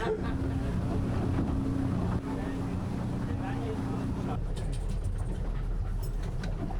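A boat's engine drones steadily with rushing wind and water noise on a short crossing to Rathlin Island, Northern Ireland, continuous and close, shifting slightly partway through.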